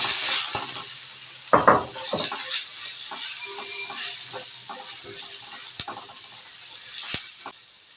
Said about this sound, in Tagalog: Paglagay lang tayo ng mantika sa kawali, guys. Pag mainit na, ilagay lang natin yung bawang.